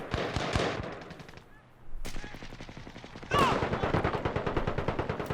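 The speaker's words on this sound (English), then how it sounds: "It's like a slow shooting gun" Bursts of AN94 rifle fire in a Warzone match, shots coming in a measured, fairly slow rhythm, loud and near with brief pauses between volleys.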